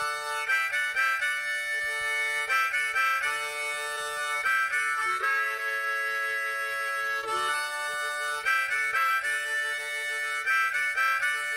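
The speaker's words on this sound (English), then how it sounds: "Harmonica." A harmonica plays a bright, reedy tune of sustained chords and short repeated notes, with no one talking.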